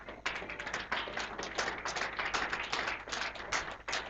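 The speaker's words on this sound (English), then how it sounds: "Come on, clap nicely." A church congregation clapping for the Lord, a steady dense patter of many hands that runs for the whole stretch with a few louder surges, no voices over it.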